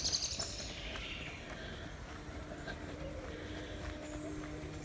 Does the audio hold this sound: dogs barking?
no